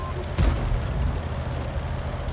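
T78 tank destroyer cannon in World of Tanks fires a single sharp blast, followed by a low rumbling tail under steady engine drone.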